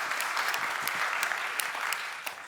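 An audience at an anniversary conference applauds a speaker, steady dense clapping at moderate level throughout, no voices over it.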